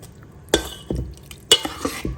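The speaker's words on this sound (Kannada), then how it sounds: "ಕಾಯಿ ಹಾಲು ಹಾಕ್ಕೊಂಡಾದ ನಂತರ ಚೆನ್ನಾಗಿ ಎಲ್ಲವನ್ನು ಮಿಕ್ಸ್ ಮಾಡ್ಕೊಳ್ಳೋಣ" Spoon stirring coconut milk into a sweet sikarane in a pot, close scrapes and clinks against the metal at an irregular rhythm, with no talk.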